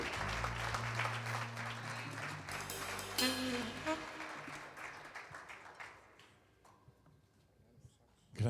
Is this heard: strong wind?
no